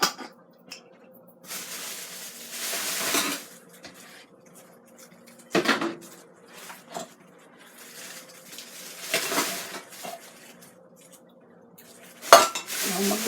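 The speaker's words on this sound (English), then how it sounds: "I'm going to stir it." A spoon scrapes and clanks around a pot of salsa chili in bursts, with metallic knocks and gaps of near quiet between stirs.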